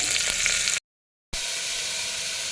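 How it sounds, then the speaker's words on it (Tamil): Onion and garlic sizzling in oil in a pan, a steady close hiss with faint stirring, cut by a brief dropout of silence midway before the frying resumes. "பூண்டு இதெல்லாம் போட்டு நல்லா வதக்கிட்டு"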